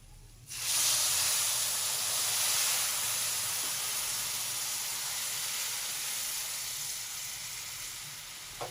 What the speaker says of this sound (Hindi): ये हमारे पास चाशनी है, जो हमने 3 गिलास और 1 पाव चीनी में तैयार करी है। ये अब हम डालेंगे।